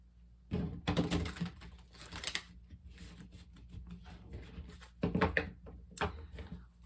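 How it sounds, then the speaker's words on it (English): Tarot cards are shuffled close by in several quick riffling bursts, with brief quiet gaps between them. "Let's do some shuffling,"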